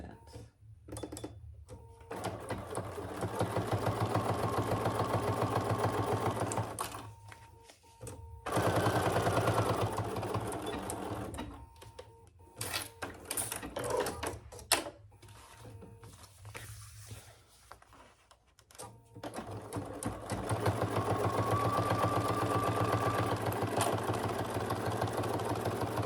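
A sewing machine stitches down the sides of a divided fabric basket. It hums in several separate runs with short stops between them, and quiet talk comes in the gaps.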